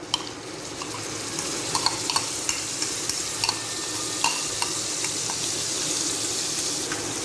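Chopped onions fry in hot oil on a tawa with a continuous close sizzle, broken by scattered light clicks and scrapes of a spatula stirring them.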